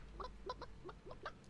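Chicken clucking in the video game Realm Royale, about six short separate clucks in a quick uneven run, fairly quiet over a low steady background hum.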